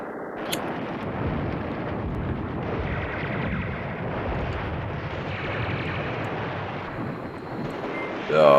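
Distant artillery fire in the wartime strategy game Command Ops 2 rolls as a steady low rumble of blasts, with a louder boom arriving at the very end.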